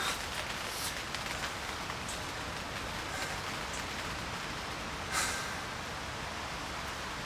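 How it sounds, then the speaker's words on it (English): Steady rain patters and hisses continuously on a surface at a carp fishing lake in France in November, with a slightly heavier gust of drops partway through. "It's still raining, but the temperature's gone up."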